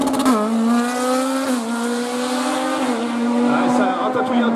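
Race car at a hill climb in Saint-Gouéno, driven rally-style, engine howling steadily at high revs with shifts and tyre squeal, while a commentator talks over it.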